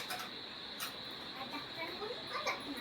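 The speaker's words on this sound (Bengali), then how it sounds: "তোমরা তো শুনতেই পাচ্ছ ঝিঝি পোকার আওয়াজ" Crickets keep up a steady, faint high chirping in the background of a house on a rainy morning, with soft household noises around it.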